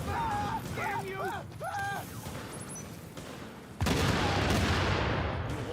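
Bursts of gunfire in The Division 2 video game, with a robotic enemy nearby. A constant rattle of shots runs beneath game voices, then a sudden, louder burst of fire breaks out and continues to the end.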